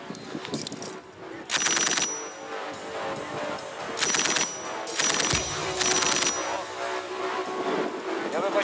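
Repeated loud gunfire bursts at a military firing range over a continuous noisy background, several sharp volleys spaced a second or two apart, with faint voices mixed in.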